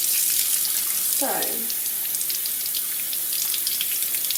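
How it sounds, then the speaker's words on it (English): Water runs steadily from a tap into a sink while dyed cotton warp chains are rinsed, a continuous close hiss throughout, with one brief spoken word. "Our 3 warp chains are now rinsed."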